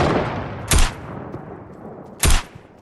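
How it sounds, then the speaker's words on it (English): Two sharp, loud gunshots go off in the Fortnite video game, spaced about a second and a half apart, over a constant rushing bed of game noise. "Are you shooting at me?"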